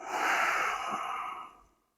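A single deep, breathy exhale during a morning yoga routine, close and fairly loud, holding steady for about a second and a half before trailing off into silence.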